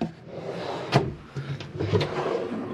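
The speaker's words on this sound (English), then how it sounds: "And then you've got storage drawers" A storage drawer in a camper van slides open and shut, giving two distinct soft knocks about a second apart over a low background hum, with faint rustling between them.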